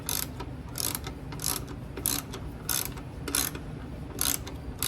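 A ratchet turns a half-inch socket on the front shocks of a 1959 Chevrolet Impala, giving a close, repeated rasp of pawl clicks in short bursts of roughly one stroke every half second, with no talk.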